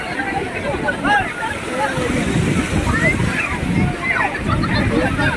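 Big sea waves roll in and crash on the beach at Digha: a steady, loud, close surf roar with sloshing surges and wind buffeting the microphone throughout.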